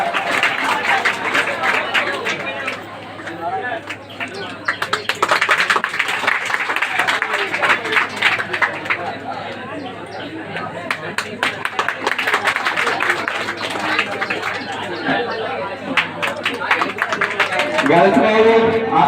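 An audience claps at a village gathering, with dense, crackling applause that swells and fades in waves over a long stretch, mixed with crowd chatter and a steady low hum, rising again near the end.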